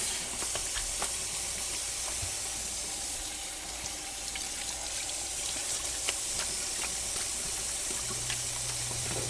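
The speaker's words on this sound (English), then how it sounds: "No matter what the chicken that came from the store, we want to wash it." A kitchen tap runs ice-cold water over store-bought chicken being washed, a continuous hissing splash of fairly close, moderate level, with faint clinks and no talk.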